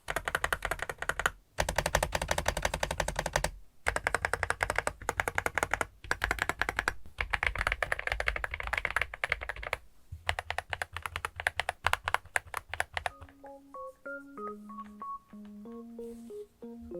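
YUNZII B87 Purple Heart mechanical keyboard being typed on: dense, steady, close-up clacking of keys with brief pauses, then fading under soft melodic background music.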